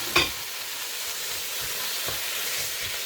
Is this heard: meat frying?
yes